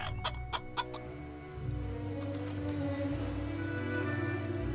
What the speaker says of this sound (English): Chicken kicking real good.